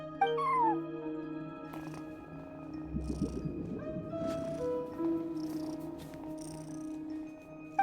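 A cat sitting at a front desk in Genshin Impact gives a few clear meows early on, then purrs and makes soft chirping sounds over a sustained game music backdrop, fairly close and alone without talk.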